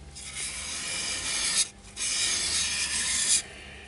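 Steady abrasive rubbing of Yorkshire Grit paste into a small wooden bowl in two long strokes, a gritty rasping hiss with a brief pause between them, close and alone.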